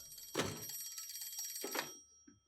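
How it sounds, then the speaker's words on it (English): An old-style telephone bell rings in a Peaky Blinders episode, two loud bursts of ringing separated by a short pause, with no voices. "You should answer the phone, Mr. Shelby."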